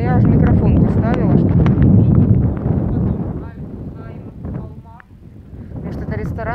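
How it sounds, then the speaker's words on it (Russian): Gusty outdoor wind buffets a microphone at an exotic hotel in the Emirates, a heavy low rumble that is strongest early, dips, then swells again, with voices talking over it. "И какой же ветер дует."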